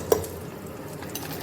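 Masala poured into a pan of sautéed ginger and garlic while cooking paneer butter masala, giving a brief sizzle and a single sharp clink near the start, then soft, steady stirring and frying close up.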